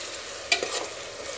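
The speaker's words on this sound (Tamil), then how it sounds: "ஆனியன் வதங்கிட்டுருக்கு, நல்லா வதங்கின உடனே இஞ்சி பூண்டு பேஸ்ட் ஆட் பண்ணலாம்." Onions for chicken biryani sauté in a hot pan, a steady close sizzle broken by one quick scraping stir stroke.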